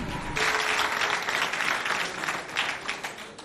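Audience applause fills a school competition hall at a Doba lycée event, a dense, steady clapping wash lasting throughout at moderate loudness with no voices standing out.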